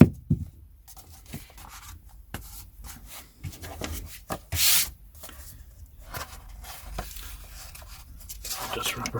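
Wiping dust off a vintage Pelican paperback book, soft close rubbing and brushing strokes in short irregular bursts with quiet gaps, one louder swipe partway through, and talking runs alongside.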